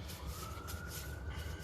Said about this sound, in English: Hope I'm not the only one hearing that police siren in the background.